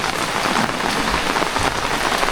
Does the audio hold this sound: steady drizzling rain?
yes